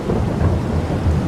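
Thunderstorm with rain in the farming video game Farming Simulator 22 on PS5, deep rolling thunder rumbling under steady heavy rainfall, loud and continuous with no voices.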